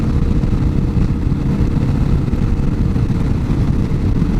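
A 2022 Kawasaki KLR650 dual-sport motorcycle engine drones steadily while riding, a loud, continuous low rumble with constant wind-like noise and no clear gear changes, heard alone without talk.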